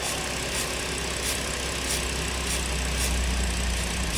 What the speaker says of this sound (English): And actually, the engine starts to run better.